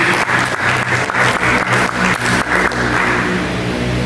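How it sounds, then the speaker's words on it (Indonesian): Church congregation applauding during a sermon on God's love, a dense, steady wash of clapping that fills the whole stretch, loud and close, with a low rumbling hum running beneath it. "Mari kita berikan tepuk tangan bagi"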